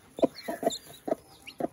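A hen clucking among her chicks, five short low clucks in an uneven rhythm, close by, with faint high peeping from the chicks between them.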